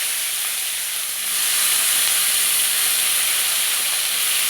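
Cut eggplant hits hot oil seasoned with nigella seeds, bursting into a loud, steady hiss of sizzling that swells after the first second and holds close and unbroken.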